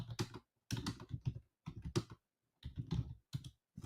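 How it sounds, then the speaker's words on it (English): Computer keyboard typing in short, separated bursts of crisp clicks, close and quiet, with brief silences between each run of keystrokes and no voices. "I'm typing it in right now."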